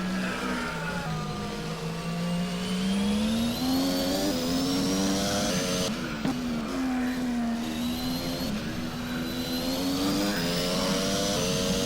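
Onboard a Ferrari Formula 1 car in the racing game rFactor at Barcelona, a high, continuous engine whine rising and falling through gear changes, loud and close with no talk.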